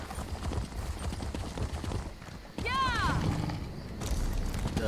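Horse hooves clip-clop while riding in The Elder Scrolls Online, a steady rhythmic gait mixed with game ambience, a brief bird-like whistling call midway, and voices talking faintly over it.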